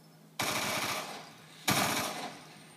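Two long bursts of rapid automatic gunfire from dual-wielded guns in Black Ops 2, loud and close, each rattling for about a second with a short gap between them.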